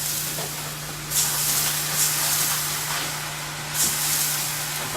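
Fish fry batter simmering in a pan, giving a steady broadband hiss with a low hum beneath it. Louder hissing surges swell and fade every second or so. Nobody speaks.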